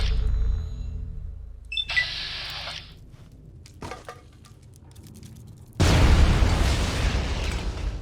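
Grenade blast in the video game Fallout: The Frontier: a sudden loud, broad roaring burst near the end, following quieter game sounds, thumps and a brief mechanical rattle earlier on.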